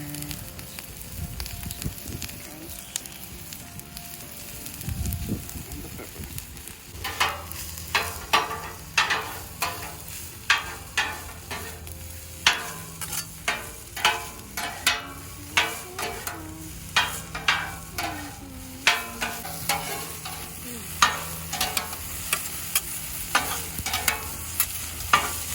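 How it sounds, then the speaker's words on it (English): Vegetables for a veggie omelette, all but the spinach, fry together in a pan with a steady sizzle, broken by frequent sharp clacks and scrapes of a utensil stirring against the pan. "I cook these vegetables together except the spinach."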